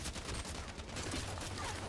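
A black Halo 1-style pistol fires in a video game, a loud, dense burst of rapid shots running steadily for the whole stretch with no talking.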